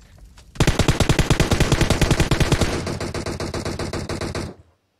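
Rapid automatic gunfire rattles loudly and continuously for about four seconds in a competitive shooter match, dense bursts of shots with a sharper tail toward the end before cutting off abruptly.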